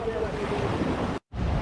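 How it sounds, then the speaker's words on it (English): Hurricane-driven storm waves and strong wind on the Jamaican coast near a boat: a loud, constant roar of surf and buffeting wind, close to the microphone, with a brief dropout near the end. "Look at those waves."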